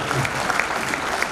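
Applause from a crowd at a social club dance event, dense and steady clapping throughout the short moment, fairly loud and close with no break.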